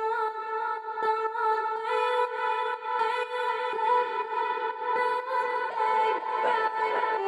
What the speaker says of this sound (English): And we have the main vocal chops.